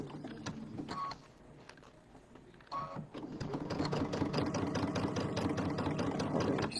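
Sewing machine stitching fabric for a quilted bench square, a rapid mechanical whir that stops briefly and then restarts in a steady continuous run, close up.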